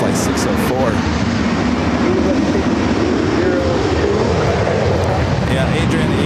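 A KLM Boeing 787 Dreamliner jet takes off at LAX, giving a loud, steady, rumbling roar that holds for the whole stretch with no break.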